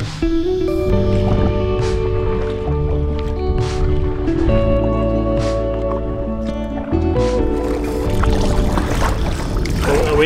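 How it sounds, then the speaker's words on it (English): A canoe is paddled along a scenic Australian river, with soft water swishes and drips heard under a steady bed of layered music that plays throughout. "So nice to get back out and paddle this section of the river."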